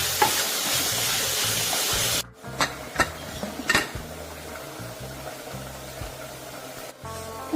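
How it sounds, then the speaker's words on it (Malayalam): Chicken pieces with salt and curry leaves are stirred in a hot pan, first a dense sizzle, then after an abrupt drop a quieter simmer broken by several scraping spoon strokes against the pan. "നന്നായിട്ടൊന്ന് ഇളക്കിയെടുക്കട്ടോ."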